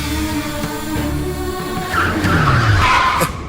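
A car skids to a sudden stop on the road, its tires squealing loudly with a rising screech that peaks near the end and then cuts off sharply, with no voices over it.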